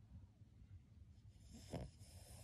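A heavily sleeping female dog snores faintly, a low rumbling breath with one louder snort-like snore near the end, heard up close in a quiet room.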